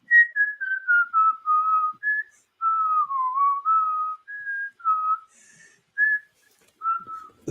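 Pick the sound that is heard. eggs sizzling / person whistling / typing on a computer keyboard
person whistling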